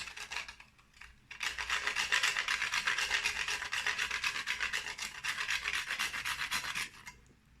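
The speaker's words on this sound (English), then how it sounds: "we can grate some nutmeg into this" Whole nutmeg rasped against a grater over a spice mix of cardamom and cloves in a kitchen, giving a steady close scraping that runs for several seconds after a brief pause, with no talk.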